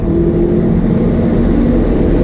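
A 2017 VW Golf R under hard acceleration to pass, its engine a loud steady roar with broad road and wind noise heard from inside the cabin, no talking.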